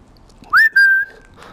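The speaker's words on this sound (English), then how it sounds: "So the little whistle, you know." A short rising whistle in The Walking Dead: Saints & Sinners, two loud close blasts sliding up then holding a steady pitch, meant to draw zombies, alone without talk.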